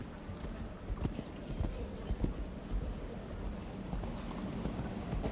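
Hooves of a show jumping horse clip-clop at a steady pace on the ground during a World Cup jump-off in Helsinki, moderately close over a faint arena murmur, with no talking.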